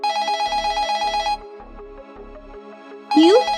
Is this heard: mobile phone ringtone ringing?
yes